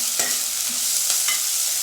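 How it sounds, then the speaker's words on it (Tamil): Onion sautéing in a pan for South Indian sambar, stirred by hand; a steady sizzle runs throughout, with a few light utensil scrapes and taps standing out. "கையில் வச்சு தான் வதக்கிட்டுருக்கேன்."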